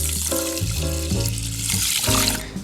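Water is poured from a cup into a pan of sushi rice in a kitchen, a steady splashing fill lasting a few seconds, close and fairly loud, with no talking.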